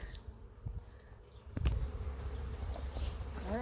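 Honey bees buzz steadily around an aggressive backyard hive while honey supers are being added, a close continuous drone that thickens and grows louder partway through, with a few brief knocks.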